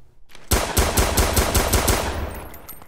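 Rapid automatic gunfire rings out in the police video game State of Tennessee, a loud burst of about eight evenly spaced shots with a trailing echo that fades out over the last second.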